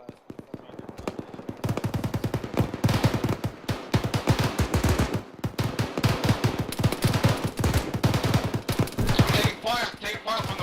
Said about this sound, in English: Taking fire from the west.